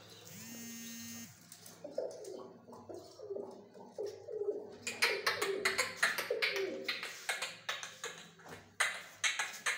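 Soft, low cooing from pigeons repeats under rustling and fluttering sounds, with a brief electronic buzz at the start.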